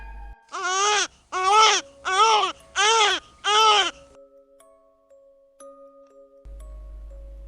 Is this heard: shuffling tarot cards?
no